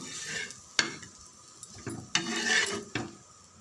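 A flipped dosa sizzles on a hot pan, a soft frying hiss punctuated by a few sharp scraping clatters of a spatula, close and fairly quiet, with no talk.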